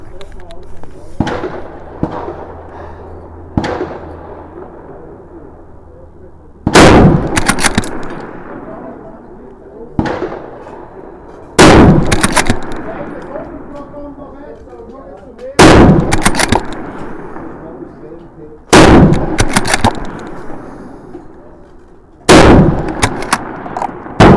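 Rifle shots from a Tikka T3x Arctic and a Lee-Enfield No.4 on an outdoor 300m range: six loud, sharp cracks spaced several seconds apart, each trailing off with echo, with quiet background between.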